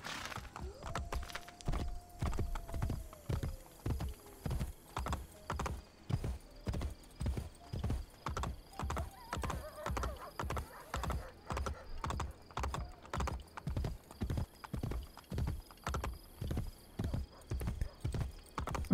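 Horse hooves clip-clop at a steady trotting rhythm in the Assassin's Creed Brotherhood video game, even and close throughout, with a brief whinny near the start and occasional faint game sounds behind.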